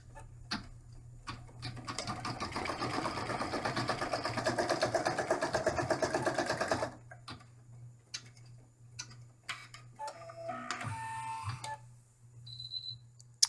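An embroidery machine sews the final stitch on an in-the-hoop camper bag, a rapid mechanical ticking run for about seven seconds, then stopping, followed by scattered clicks and light handling sounds.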